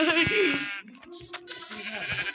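Sheep bleating in the video game Minecraft, a loud wavering bleat up front followed by softer game sounds and a voice talking underneath.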